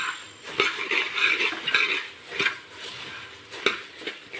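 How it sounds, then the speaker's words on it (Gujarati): Puffed rice tossed with turmeric powder in a pan while making chevdo, giving a dry rustling scrape with several sharp clinks of a spoon against the metal, fairly close and steady, no voices. "તો મમરાને આપણે સરસ રીતે હલાવી લઈશું"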